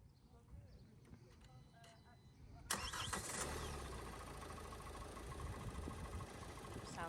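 A crash-damaged car's engine cranks and catches after a few quiet seconds, then runs at a steady, smooth idle up close, with a voice talking faintly before it starts.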